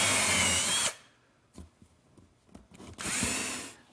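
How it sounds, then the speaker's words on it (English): A power drill bores screw holes through the wooden floor of a kitchen island cabinet, with two loud close whirring bursts separated by a quiet stretch of light handling knocks. "it's easier to drill the holes down the center of the dado"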